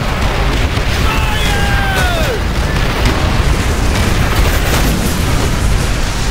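Explosions in the Call of Duty World at War mission Blood and Iron, dense low booms and rumble that fill the whole stretch, with faint whistling streaks from incoming shells overhead.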